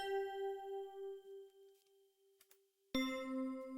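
Grandfather clock chimes from the 1992 DOS game The Legend of Kyrandia: Book One, a sustained bell tone ringing and slowly decaying, then a second brighter, louder chime struck near the end, with no talk.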